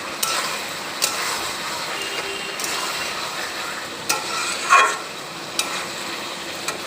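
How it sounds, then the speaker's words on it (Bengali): Onions stirred and frying in a pan, a steady close sizzle with sharp scraping clicks of the spoon against the metal at irregular moments, no talk. "এটা যত নাড়াচাড়া দেবে, যত কষাবে, তত পেঁয়াজটা একদম মজে যাবে"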